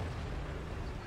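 Heavy 88mm tank guns fire at a Hellcat tank destroyer during a World of Tanks battle, a dull, rumbling boom that fills the short stretch at a steady, moderate level, with no voices.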